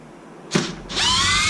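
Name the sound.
power drill removing screws from XMAXX differential cover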